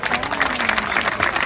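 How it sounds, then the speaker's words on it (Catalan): An audience at a Catalan neighbourhood association event presenting a sardana dance group gives brisk, steady applause of many hands clapping at close to moderate distance, with a faint voice underneath. "Un fort aplaudiment, si us plau."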